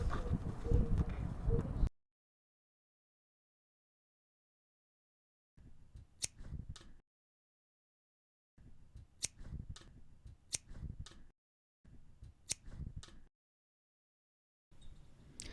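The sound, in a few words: cutting plastic sheets for an action figure box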